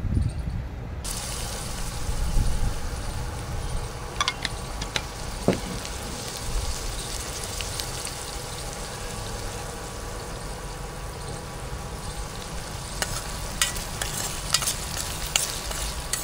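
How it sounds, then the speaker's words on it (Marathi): Onions fry in oil in a pan with a constant, even sizzle, while occasional spatula clinks and scrapes from stirring sound close by and grow busier toward the end. "आता कांदा पण छान मस्तपैकी ब्राऊन होतो तेलामध्ये, व्यवस्थित फ्राय करायचा आहे।"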